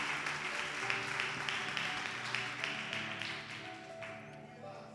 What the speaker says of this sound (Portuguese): Uma salva de palmas para o Senhor Jesus.